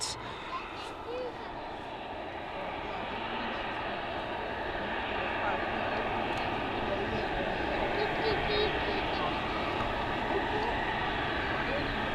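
A Boeing 737 Max 8 airliner taxis toward runway 09 for departure at Bristol Airport, giving a steady, broad jet engine rumble and whine that holds at an even level throughout.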